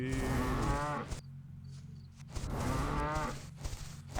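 A cartoon cow in the video game The Moo-FO gives two long, loud, droning moos separated by a short quiet gap.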